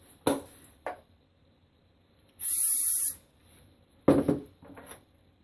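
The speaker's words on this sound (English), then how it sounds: "Spray after each one." A single burst of aerosol hairspray hisses for under a second onto teased hair, between a few knocks and handling sounds from nearby objects.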